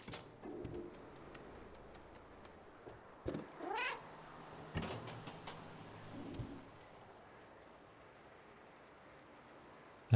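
A few faint cat meows in a video game come through quiet background noise, short and spaced apart, with one stretched cry in the middle.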